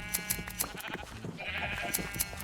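Sheep in Minecraft bleat in wavering, nasal calls, with crisp clicks punctuating before and after them in a quiet setting.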